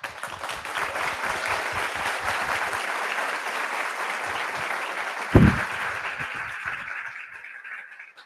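Graduating class and audience at a white coat ceremony giving a long round of applause, dense clapping that holds steady, then thins and fades toward the end.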